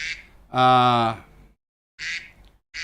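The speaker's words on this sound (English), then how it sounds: "Oh, duck time. Quack, quack." A duck quacks loudly once in a long harmonic call, the sound standing apart between brief bursts of breathy noise.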